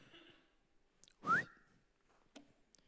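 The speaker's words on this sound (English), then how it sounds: "I don't know why I'm whistling." One short, rising whistled note sounds by itself amid near silence, quiet and close.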